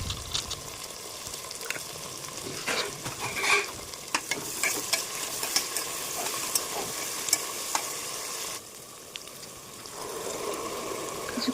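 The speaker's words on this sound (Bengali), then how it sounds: "এবার আমি গোটা পেঁয়াজ এবং গোটা টমেটো ভেজে নেবো লাল করে" Whole onion and tomato frying in mustard oil for chana masala, with a continuous sizzle under frequent scraping and knocking strokes of a stirring spoon close to the pan.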